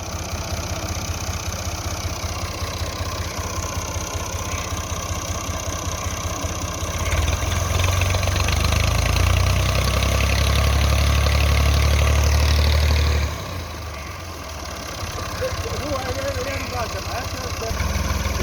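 A small Massey Ferguson MF 240 tractor of about 35 HP runs steadily with a dense diesel rumble, swelling louder and heavier for several seconds midway before easing back to its earlier level.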